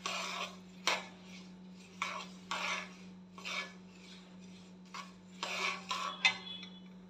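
Jaggery being stirred in a pan over medium heat for a sweet, heard as faint, intermittent scraping and clinking of a utensil against the pan over a steady low hum; no speech.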